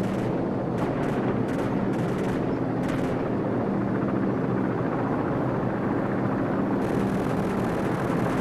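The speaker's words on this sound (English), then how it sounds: "friendly helicopters entering the area" Loud, continuous roar of helicopter rotors overhead in the video game Call of Duty 4: Modern Warfare fills the whole stretch, with scattered sharp bursts of gunfire cracking over it near the beginning and end.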